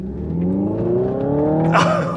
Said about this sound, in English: and you get the fake exhaust sound.